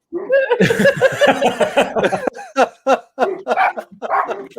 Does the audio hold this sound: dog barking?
yes